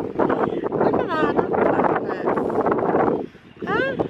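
Gusty wind rumbles and buffets the microphone while a person talks over it, easing off briefly before picking up again.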